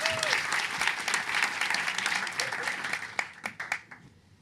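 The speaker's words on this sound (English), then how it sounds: "A round of applause." Audience applause for a startup pitch presenter at a Start Up Night Africa event in The Hague, steady dense clapping from a crowd that thins out into a few scattered claps near the end.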